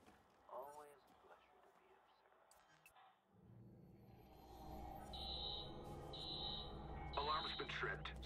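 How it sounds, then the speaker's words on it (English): An intruder alarm in the video game Watch Dogs, a repeated high electronic beeping in short bursts over game music and ambience, starting midway through, with a brief voice early on. "Alarm's been tripped."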